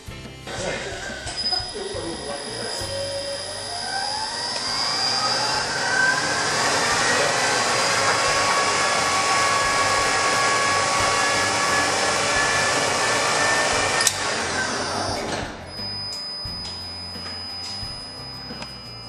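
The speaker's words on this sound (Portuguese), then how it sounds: "o pino vai ser posto em rotação e a mesa vai entrar em contato com o pino através do avanço para cima" Friction welding machine spinning a steel pin at 4000 RPM as the table feeds upward at 7 mm per second into the base metal; a loud, steady high whine and grinding roar builds and holds for about fifteen seconds, then cuts off sharply.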